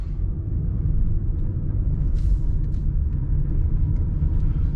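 A 2022 Subaru Forester's engine under light throttle as the all-wheel-drive car spins slowly in a tight circle, a steady low rumbling drone with faint tire and road noise, no talking.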